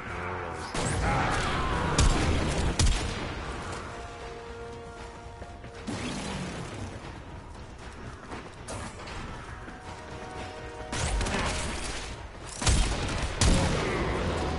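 A shotgun-like weapon fired in the video game Warframe, loud booming blasts and mechanical clanks in irregular bursts, some shots close together, layered with whooshing game effects and no speech.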